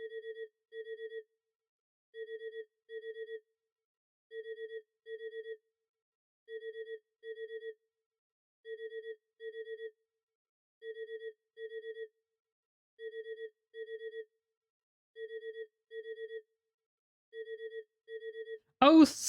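A telephone in the video game Omori rings in a steady electronic pattern, paired short trills repeating about every two seconds, clear and alone, until a louder sound cuts in at the very end.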